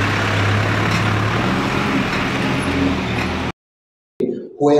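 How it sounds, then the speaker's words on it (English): A tea transport truck drives toward a factory offloading bay, its engine a loud, steady low rumble that cuts off abruptly into silence before a brief burst of noise returns. "Then the vehicle goes to what we call the offloading bay."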